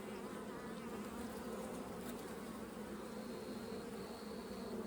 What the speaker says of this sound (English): I'm gonna take a couple shakes of bees from this unit